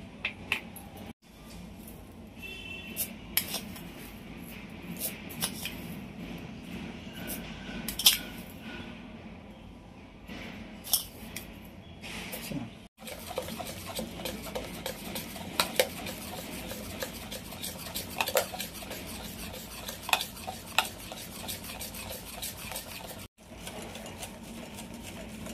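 A spoon stirs sugar into dhokla batter in a mixing bowl, making steady scraping swishes with frequent light metallic clinks against the bowl throughout, close by with no talking.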